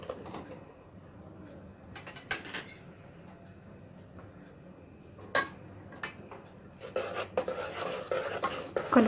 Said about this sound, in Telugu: వాటర్ బాయిల్ అయిన తర్వాత స్టవ్ లో ఫ్లేమ్లో పెట్టుకొని బియ్యం పిండిని వేసుకొని కలుపుకోవాలి